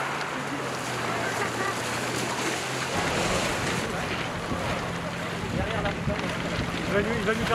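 Surf washes onto the beach at Cayeux-sur-Mer on the Baie de Somme during a 2019 triathlon start, a steady broadband roar of breaking sea waves mixed with wind buffeting the microphone, continuous and fairly close.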